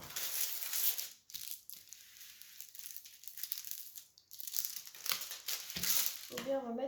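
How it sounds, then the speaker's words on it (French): Thick transparent protective film from a diamond painting kit crinkles and rustles close up in repeated bursts, with a brief pause and a short voice near the end. "Alors le papier transparent, il est un peu plus épais que d'habitude. Il fait un petit peu moins de bruit."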